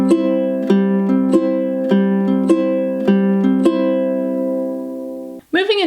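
Ukulele fingerpicking pattern for a song at song tempo, close and clear, with evenly spaced plucked notes over ringing chords for about five seconds before a brief voice comes in at the end.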